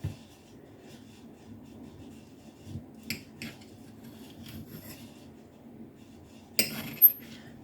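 A knife slices through baked potatoes on a plate, giving quiet scraping and rasping strokes with a few sharp clicks of the blade against the plate, faint and close.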